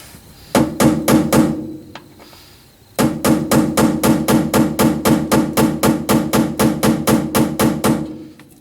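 A hammer taps metal on a 1965 Corvair fuel pump controller install, making an indent for a drill bit, in quick, even strikes: a short burst of four, a pause, then a long steady run of close, ringing blows.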